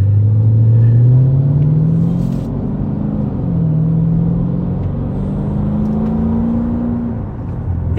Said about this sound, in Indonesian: kalau misalnya kita buka knalpotnya, suara gemuruh itu memenuhi kabin